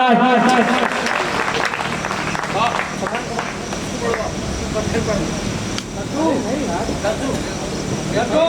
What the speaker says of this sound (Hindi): बजाओ एक बार जोरदार तालियां